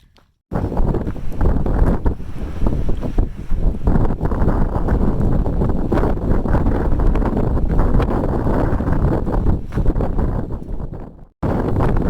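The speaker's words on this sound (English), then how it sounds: "So windy." Strong, steady wind buffeting the microphone in a continuous roar on the Pacific Crest Trail, loud and unbroken for most of the time, then briefly cutting out near the end.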